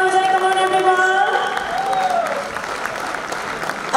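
Hearty applause and some cheering for a speaker at an awards ceremony, a full crowd clapping steadily while voices carry over the top early on.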